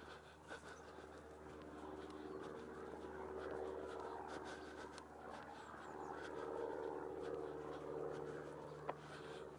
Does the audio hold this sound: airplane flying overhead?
yes